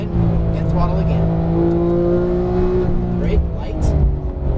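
Porsche 911 GT3 (991) engine on a race track during a driving session, loud close in-cabin engine note with steady harmonic drone rising under acceleration, while a voice coaches over it throughout.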